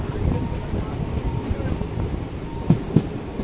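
A train rumbles along the tracks nearby, a low steady rolling with two sharp clacks of wheels over rail joints near the end.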